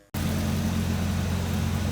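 An old Toyota Sprinter starts up and runs, a steady close engine drone with a low idle hum, continuous after a sudden onset.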